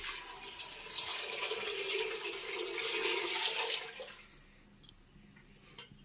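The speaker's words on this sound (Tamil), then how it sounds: "இப்போ ஒன்பது டம்ளர் தண்ணி நாங்கள் எடுத்து வச்சுட்டு அதை ஊற்றிடுறோம்." Water poured from tumblers into a pot for biryani makes a steady splashing rush for about four seconds, then fades to faint drips and quiet.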